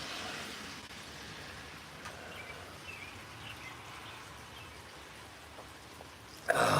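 Steady rain falling outdoors on a lawn, a continuous soft hiss that holds level throughout, with faint bird calls in the background and a louder burst of noise near the end.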